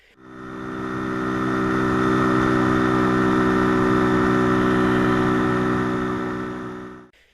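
A motorcycle engine runs steadily while riding, a continuous droning hum that swells in and holds at an even level before fading out, fairly close with no talk.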